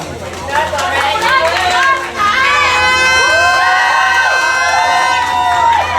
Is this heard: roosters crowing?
no